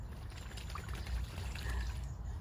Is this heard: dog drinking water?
yes